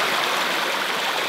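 Water flows steadily inside Hungary's pyramids, a continuous rushing, trickling stream heard close and fairly loud, with no voices.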